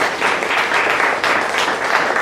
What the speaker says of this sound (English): let's hear an applause if you have had some successes with your business so far